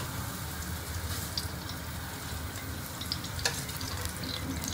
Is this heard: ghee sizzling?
yes